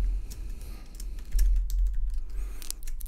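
Computer keyboard typed in quick, irregular bursts of clicks during Photoshop text work, close and moderately loud over a low background hum, with no voices.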